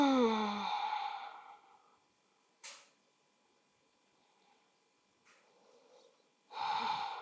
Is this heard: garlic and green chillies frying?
no